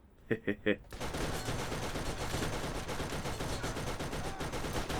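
A gun turret fires in the video game Borderlands on PC, starting with three separate loud shots and then breaking into continuous rapid automatic fire that holds steady for several seconds.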